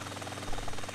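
A Little Bird helicopter in the video game Battlefield flies steadily, giving a continuous droning rotor and engine hum that swells slightly toward the end, with no voices.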